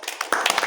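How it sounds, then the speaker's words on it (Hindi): Schoolchildren in a Class 8 maths classroom clap for a classmate, a short burst of nearby applause with scattered hand claps and some voices mixed in. "इस बच्चे के लिए फिर ताली बजाओ।"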